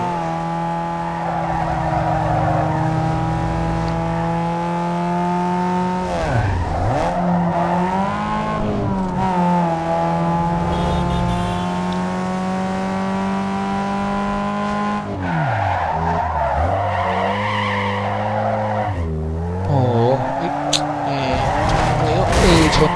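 A car in the video game Need for Speed Underground 2, set to automatic gears, drives and skids, with a loud engine whine rising and falling through gear changes and repeated tire squeals over continuous game audio.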